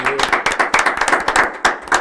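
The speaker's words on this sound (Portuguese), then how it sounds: "Aplaudam o Senhor" Rhythmic group clapping in a steady beat at a worship gathering, loud and close, continuing throughout.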